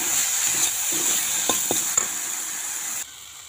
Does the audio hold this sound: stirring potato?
yes